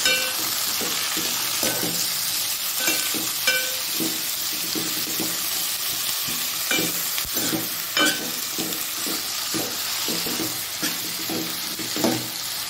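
Ivy gourd and tomato fry in a pan, a constant close sizzle broken by repeated scrapes and taps from stirring, with no talk.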